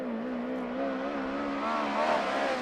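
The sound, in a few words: USAC race car lapping Arizona Speedway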